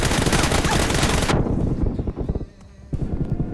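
Loud, rapid automatic gunfire in the mobile shooter PUBG Mobile rattles for over a second, then cuts off abruptly into quieter game ambience with faint distant noises.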